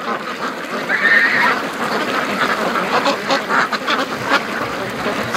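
Free range ducks quack continuously outdoors, a dense overlapping chorus of nasal calls from a flock nearby, loud and steady throughout.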